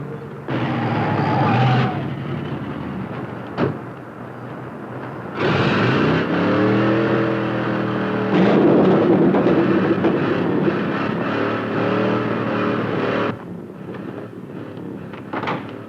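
A 1950s hot rod engine roars past in loud surges, several bursts of throaty rumble and rushing noise separated by brief lulls, with no talking.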